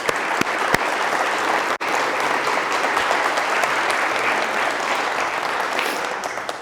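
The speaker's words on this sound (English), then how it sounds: "Let's give Robert a round of applause." A school hall of fame audience breaks into sustained applause, a dense steady wash of clapping from many hands filling the room, loud and even throughout with no talking over it.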